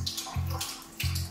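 Ionized water from a Tyent UCE13 water ionizer pouring into a glass, a close, steady splashing trickle with brief gurgles.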